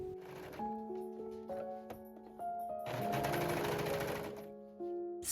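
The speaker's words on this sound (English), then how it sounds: "Sew the side seams of both the front and back panels right sides together. Then serge it." A serger overlocks the side seams of an elastic-waist skirt, a close whirring machine run in short bursts with a few pauses, accompanied by faint tonal hum.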